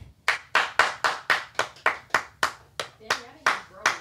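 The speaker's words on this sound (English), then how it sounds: "Clap your hands if you gain weight in a new relationship." Rhythmic group hand clapping during a podcast conversation, about a dozen crisp, evenly spaced claps in a steady beat, close and clear with no other sound between them.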